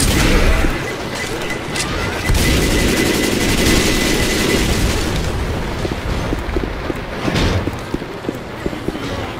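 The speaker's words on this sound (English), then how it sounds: "Throwing a pipe bomb" A pipe bomb thrown and going off in Left 4 Dead 2 during the rainy Hard Rain mill level, heard as a dense, continuous roar of booms and gunfire with crackling bursts that fade toward the end.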